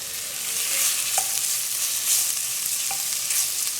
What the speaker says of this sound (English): I'm going to saute the onions and the green peppers